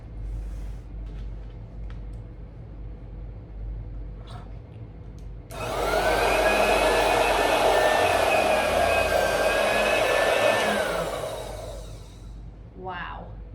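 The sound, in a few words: electric sewing machine stitching thick harness leather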